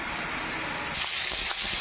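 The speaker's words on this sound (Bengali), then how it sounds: "তো দেখুন আমি এখানে কি মাছ ভাজছি বলুন তো। এটা হচ্ছে মেলা মাছ মাথা।" A mela fish head frying in oil gives a constant soft hiss that grows brighter and crackles a few times toward the end, close by, with no one talking.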